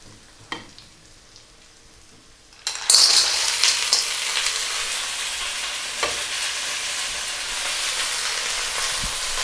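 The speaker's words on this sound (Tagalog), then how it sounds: "Ayan, pwede na po tayo mag-add ng ating clams." Clams dropped into a hot pan burst into a loud, sudden sizzle after a quiet start with a small clink, then a steady hissing fry continues close up.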